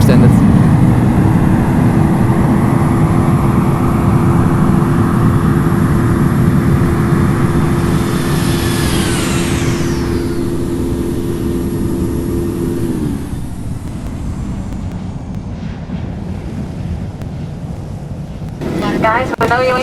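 Airliner landing rollout in the Infinite Flight game with spoilers extended, with loud roaring engine and wind noise and a whining tone that winds down and fades, followed by a sudden louder burst near the end.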